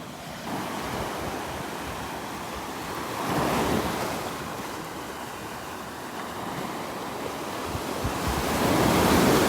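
Slightly churned ocean waves roll onto a beach in North Naples, Florida, producing a steady broadband wash that swells around a third of the way through and again near the end, with light wind buffeting the microphone and no voices.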